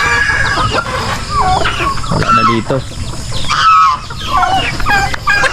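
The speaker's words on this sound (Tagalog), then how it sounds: "ibang mga native chicken gumagala na ganitong oras" Native chickens cluck and call around a farmyard alongside other fowl, with a rooster crowing in the mix; the bird sounds are close and busy, running under a man's speech throughout.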